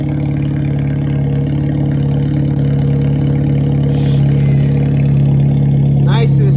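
A Honda Civic with a freshly welded straight-pipe exhaust runs at a steady loud idle, a deep rumbling drone that holds throughout, with a brief higher sound near the end.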